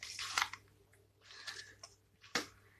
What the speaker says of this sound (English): If you hear crunching, it's my cat eating food.